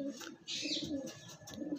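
Andhra pigeons at a sale coo briefly and faintly, a soft rolling murmur with no voices over it.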